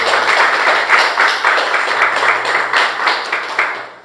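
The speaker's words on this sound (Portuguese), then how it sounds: "E mais uma salva de palmas a Jesus" A church audience claps together through a sermon's closing moment, a steady wash of applause with faint pulsing swells, then thinning out toward the end; no voices on top.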